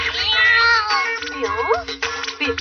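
Cartoon cat from Doraemon meowing in a series of drawn-out, wavering cries, loud and close, with brief pauses between calls.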